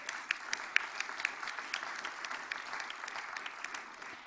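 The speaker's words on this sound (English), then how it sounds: "I'd like a round of applause for BB right now" An audience applauding steadily for a youth climate activist at an event, a dense wash of clapping heard from a short distance, fairly quiet and unbroken.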